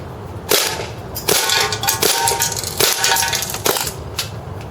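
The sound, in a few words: airsoft PDW firing semi-automatic shots at a can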